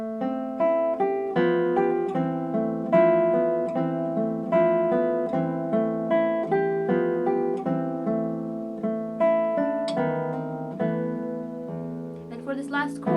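Solo classical guitar plays a piece with a steady, gently plucked pattern of chords and melody notes, clear and close, without talk.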